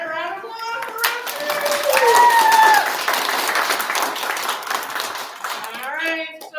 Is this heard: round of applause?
yes